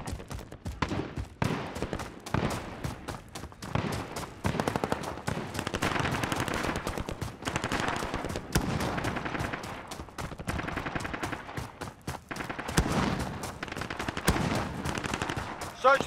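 Rapid bursts of automatic gunfire from a shooter video game, loud and nearly continuous with dense machine-gun rattles and scattered single shots over sixteen seconds, with a voice shouting briefly underneath.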